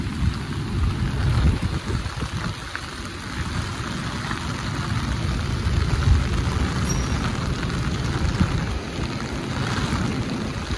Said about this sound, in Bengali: কি পরিমাণ বৃষ্টি হচ্ছে আমার ছাতা দেখে আপনারা একটু ধারণা করতে পারবেন।